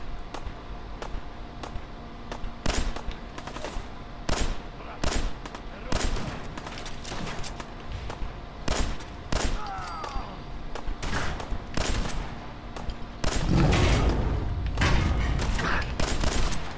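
Gunfire from the Fallout 4 video game crackles in rapid, irregular volleys over about seventeen seconds, loud and close, with a heavier blast near the end while someone talks now and then.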